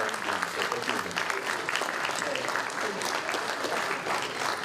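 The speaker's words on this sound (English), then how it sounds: "Again, a round of applause for the quick action." A room full of people at a State of the City address in Romulus claps steadily, a warm sustained round of applause with no break.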